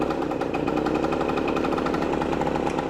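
A 1975 Yamaha MX 400 motorcycle engine runs up close, loud and steady, with a rapid, continuous popping beat and no other sounds.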